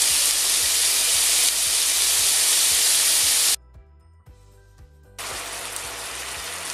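Beef strips searing in a hot pan, a loud broad sizzling hiss that cuts out abruptly for over a second before resuming just as strongly.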